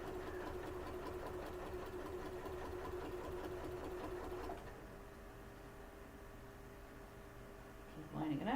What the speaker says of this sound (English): I'm using the walking foot on my machine because you get kind of a lot of bulk here sewing binding on